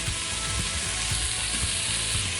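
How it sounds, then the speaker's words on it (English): Bacon sizzles and crackles in an Instant Pot on saute, a constant bright hiss with small pops and occasional scraping. "If you don't hear it sizzle, you ain't doing it right."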